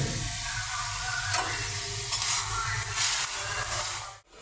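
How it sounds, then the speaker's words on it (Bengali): Thin paratha-style flatbread frying in a generous amount of oil sizzles continuously and close up, with crackling bursts and faint stirring, until the sound cuts off abruptly at the end. "আমি একদম পাতলা করে একটু বেশি করে তেল দিয়ে পরোটার মতো করে ভাজি চাপড়ি"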